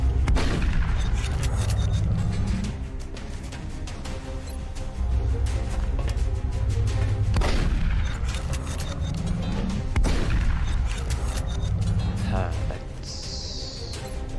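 Gunshots in the turn-based video game XCOM: Enemy Within: a few loud, sharp single shots a few seconds apart over a steady rumbling game soundtrack.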